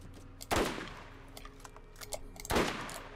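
Borderlands gunfire aimed at the player: two loud bursts of shots about two seconds apart, with quieter scattered pops and game noise in between.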